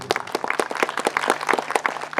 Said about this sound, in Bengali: প্রসূনবাবুর জন্য একটা হাততালি হয়ে যাবে।